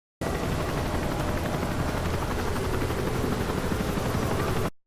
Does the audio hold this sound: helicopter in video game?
yes